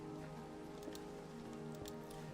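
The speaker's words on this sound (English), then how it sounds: "Now it's raining" Steady rain patters continuously in Minecraft, a soft, even wash of drops with faint scattered ticks, quiet and unbroken, no talk.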